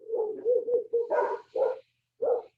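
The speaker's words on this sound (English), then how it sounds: "There's a hound dog on the other side of the fence. He or she sounds so funny when they start howling." A hound dog behind a fence gives a run of short yelping barks and baying howls in quick bursts, moderately near, with brief pauses between.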